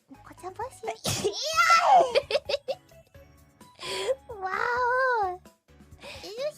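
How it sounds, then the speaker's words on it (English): A sharp sneeze bursts out near the start, followed by high, playful chatter and squeaky vocal sounds from a livestream host, loud and close with brief pauses. "Is that your third sneeze already"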